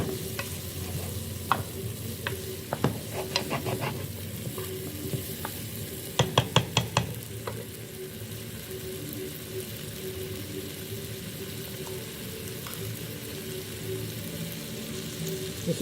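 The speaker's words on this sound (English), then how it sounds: "Give this a stir." A sizzling curry dish in a pan being stirred, a steady close frying hiss with repeated clinks and scrapes of a spoon, including a quick cluster of taps midway.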